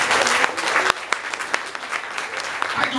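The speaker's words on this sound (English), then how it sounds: "Everybody, please clap your hands." A church congregation claps their hands together in a dense, continuous burst with a few sharper individual claps standing out and some voices mixed in.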